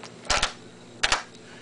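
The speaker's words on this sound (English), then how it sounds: "the Kar98, I'm going to dry fire this" A Mauser Kar98 rifle is dry fired with an empty chamber, giving two sharp, close mechanical clicks about three quarters of a second apart, each a quick double snap, in a quiet room with no speech.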